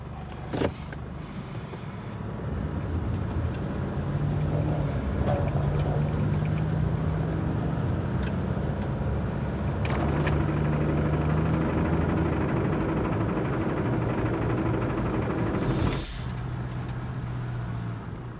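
A Chevrolet Colorado High Country pickup with a Duramax diesel and six-speed gearbox rolls down a steep slope, its steady low engine drone and road rumble filling the whole stretch, with a brief whoosh near the end.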